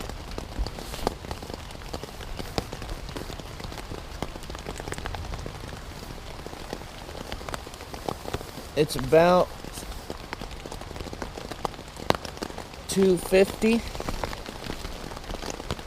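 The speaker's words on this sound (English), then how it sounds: "We're getting a nice steady rain outside the tent." Steady rain patters on a Wenzel Starlite tent overnight as a soft, even hiss, with brief faint sounds partway through and a quiet voice speaking briefly.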